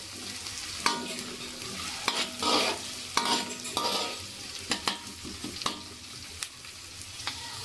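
Onions frying on a medium flame in a pan for an egg malai curry, turning golden brown. A steady soft sizzle runs throughout, broken by clinking stirs of a spoon against the pan every second or so, with no talking.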